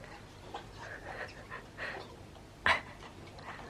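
A dog pants steadily and close by on an evening walk at dusk, its quick breaths continuing throughout, with one brief louder burst near the end.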